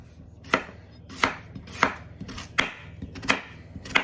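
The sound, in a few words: chopping red potatoes into small pieces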